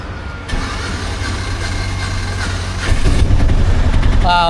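A 2026 Piaggio Ape Classic auto rickshaw engine cranks and catches abruptly, settling into a close, throbbing idle before revving louder toward the end.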